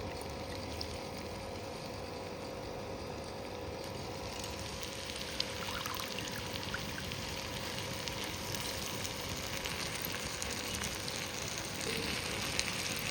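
Soaked basmati or plain rice sizzling in a hot pan of fried masala for masala bhaat, a soft, steady crackle and hiss that grows slightly busier partway through, faint and close, with no talk.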